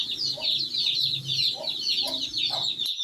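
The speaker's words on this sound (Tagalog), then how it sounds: "Yung mga sisiyo yun, parang di lalapit." Chicks peep in a steady high chatter outdoors, while a hen clucks low several times beneath them, close and fairly loud, ending abruptly.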